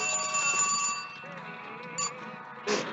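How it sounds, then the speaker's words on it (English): A mobile phone alarm sounding indoors, a bright electronic ringing tone that holds for about a second and then gives way to softer tonal chiming and short bursts. "Sorry, that's my phone going off."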